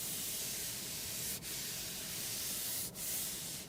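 Hand rubbing the steering wheel of a Lexus LBX, a close, soft continuous brushing hiss with two brief pauses as the stroke changes direction.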